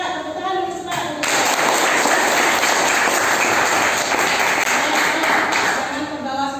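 A classroom of students claps hands together after the teacher's cue, a loud, close burst of clapping that starts abruptly and holds steady for about four seconds, with voices faintly mixed in.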